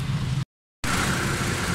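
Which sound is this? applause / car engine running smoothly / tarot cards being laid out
car engine running smoothly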